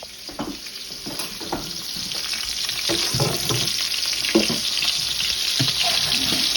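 Salmon fillet searing in a hot pan gives a loud, close, continuous sizzle and crackle, with scattered clinks and scraping of a utensil and no talk.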